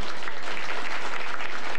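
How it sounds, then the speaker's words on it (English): A short, dense burst of crowd applause for a retiring person at a gathering of about 150 people, continuous and fairly loud. "let's have a round of applause for Arnie"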